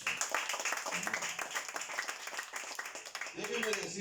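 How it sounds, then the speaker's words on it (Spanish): A church congregation claps for the Lord during a Spanish-language sermon, steady applause filling the stretch while a voice talks over it and rises near the end. "Dale un aplauso al Señor."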